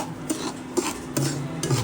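A spoon stirs roasted semolina (rava) into ghee in a pan, four rhythmic scraping strokes close by with a soft sizzle underneath.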